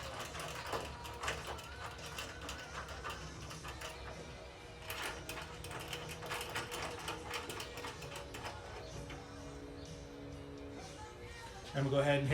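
Hand ratchet tightening bolts on a hood strut bracket of a Ford Bronco II, giving steady close clicking and mechanical ticking that runs for about twelve seconds under someone talking.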